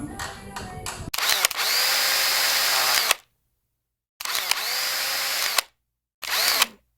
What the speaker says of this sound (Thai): ขันน็อตซ้ายกับขวา ตัวนี้จะเป็นขายึดล็อกเบลนะครับ